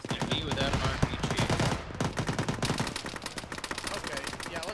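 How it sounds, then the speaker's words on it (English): A BMP's cannon fires in the ArmA military game, a rapid string of heavy shots rattling through a crowded battlefield soundscape while players talk over it. "Oh, that's a cannon."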